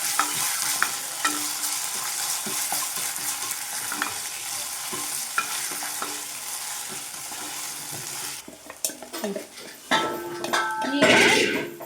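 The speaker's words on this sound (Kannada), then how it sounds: "ಎಲ್ಲ ಹಸಿ ವಾಸನೆ ಹೋಗೋ ತನಕ ಚೆನ್ನಾಗಿ ಫ್ರೈ ಮಾಡೋಣ" Ginger garlic paste fries in hot oil for a rajma (kidney bean) gravy, a steady close sizzle with a spoon stirring and scraping the pan, then sharper clinks of utensils against the pan near the end.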